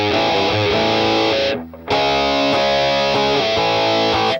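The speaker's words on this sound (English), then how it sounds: "Let's get our reverb going here." Distorted electric guitar through a Rockman Sustainor-style tone on a Boss Katana MkII plays sustained chords with a washy, spacious hall reverb, briefly dropping out mid-phrase before resuming loudly.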